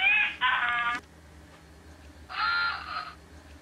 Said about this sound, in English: Picking a new ringtone.